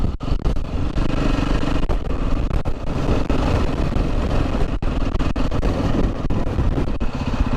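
Strong gusting wind roars over a motorcycle rider on an exposed stretch near kiteboarders, a loud, constant buffeting rush with dense low rumble that barely lets up throughout.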